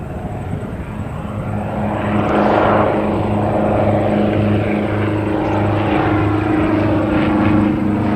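A Vulcanair P-68 twin-engine light aircraft flying past an airport, a loud steady propeller drone with engine hum that swells and holds, no talking.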